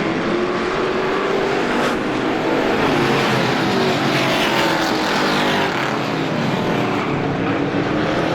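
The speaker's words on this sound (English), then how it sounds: "Up front, Mark Parento starting to take off just a little bit. At the top spot in car number 74." Race cars in a Halloween Howler feature event on an oval track, a loud continuous roar of engines at full throttle with passing swells, steady throughout with no talk.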